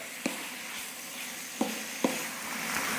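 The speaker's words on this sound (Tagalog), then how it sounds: "kapag naririnig nyo na nagsisizzle na yung mantika sa ilalim, halu-haluin lang natin ng konti." Pork belly (liempo) sizzles in a pan as its fat renders, a soft steady crackling hiss with a few sharp pops and spatters, heard close with no talking.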